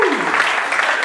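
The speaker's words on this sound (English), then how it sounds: "A big round of applause" Loud, dense applause from guests at a gala dinner fills the room in a steady continuous wash for the whole short moment.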